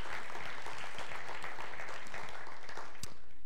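Audience applause fills a church, a steady wash of many hands clapping at moderate distance, continuous throughout and fading slightly at the end.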